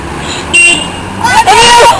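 Car horns toot in a short burst and again in longer blasts, fairly close and loud, with cheering voices mixed in around them.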